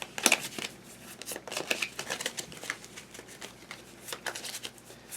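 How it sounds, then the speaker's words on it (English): Overhand shuffling of Pandemic board game cards, a series of soft, brisk papery riffles and flicks close by, in irregular bursts with no talking. "Then, shuffle the epidemic cards into the country piles."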